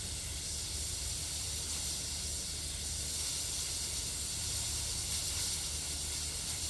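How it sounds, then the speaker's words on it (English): An airbrush sprays paint onto plastic in a steady, continuous hiss that holds evenly for several seconds, fairly quiet and close, with no voices. "Then I'm just spraying onto the plastic and then darken up the tip there"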